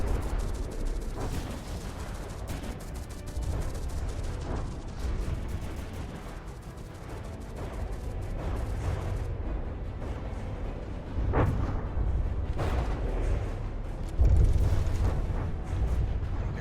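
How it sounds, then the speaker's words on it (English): A missile barrage striking in rapid succession, booming explosions and rumbling impacts rolling over one another, with sharper blasts standing out near the end. "That next missile barrage."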